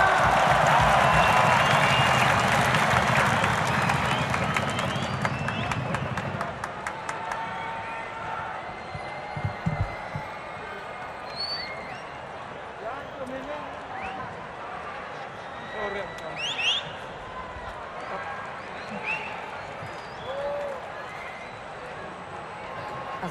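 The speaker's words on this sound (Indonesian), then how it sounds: "Kita beri tepuk tangan yang paling meriah GBK." A huge stadium crowd at Gelora Bung Karno (GBK) in Jakarta breaks into loud, dense applause and cheering at a political rally, then fades after several seconds into a softer murmur with scattered voices and shouts.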